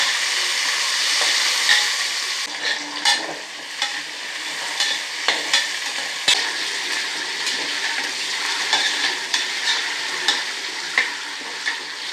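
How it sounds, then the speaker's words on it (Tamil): Onions and green chillies sauté in a hot pan, with a constant sizzle and repeated scraping strokes of a spoon stirring them. The sound is close and loud and goes on for a long stretch without any talking. "இப்போ வந்து நம்ம வெங்காயமும் பச்சை மிளகாவும் நம்ம போடணும். இது நல்லா வதங்கணும்"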